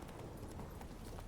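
The horse Roach trotting in a video game, rapid rhythmic hoof clip-clops on ground, steady and moderately close.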